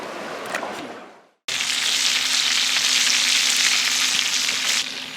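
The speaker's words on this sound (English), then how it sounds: "Breakfast on the campfire." Breakfast sizzles in a pan over a campfire, a loud, close, continuous frying hiss that starts abruptly after a brief softer stretch of crackling.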